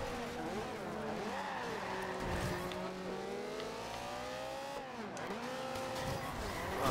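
A race car drifts in Forza Horizon 2, its engine droning and revving steadily up and down while tires squeal in long wavering tones, loud and continuous for several seconds.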